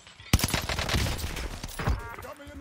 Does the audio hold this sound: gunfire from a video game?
yes